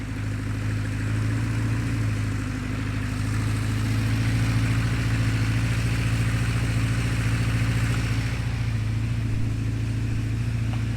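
A 1976 Honda CB550 chopper motorcycle engine idles steadily after being started for the first time in decades, a low continuous burbling hum at close range with slight swells, and no talking.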